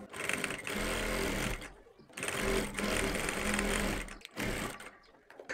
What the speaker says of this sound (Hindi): तो हमने इसके ऊपर यहाँ से एक पैर की सिलाई लगानी है